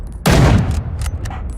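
Mosin rifle from Rising Storm 2, a single loud close gunshot with a sharp crack and a booming tail that rings off and fades over about a second.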